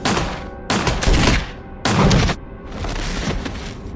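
Heavy gunfire from a big gun in the survival horror game Resident Evil HD Remaster booms in loud repeated blasts, each burst roaring and breaking off abruptly, with a sustained rumbling volley at the end.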